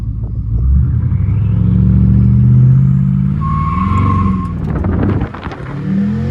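BMW 550i with catless downpipes and straight pipes revving hard, a loud deep exhaust roar that rises and holds, then drops off into crackling pops before settling back to a low rumble.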